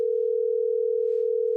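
A steady, continuous telephone dial tone from a live phone call, loud and unbroken throughout, with a brief faint rustle near the end and no speech.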